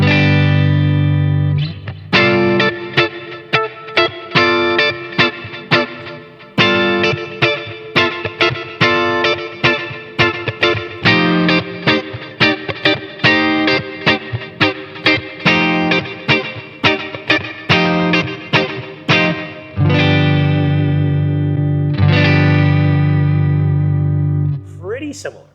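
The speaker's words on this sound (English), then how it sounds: "A little more compression coming from the Mark III is what I hear." Electric guitar played through a Boss Katana Mark III amplifier, a distorted tone with processed effects, strummed chords and quick riffs sounding loud and continuous, with sustained chords ringing near the end and no talking.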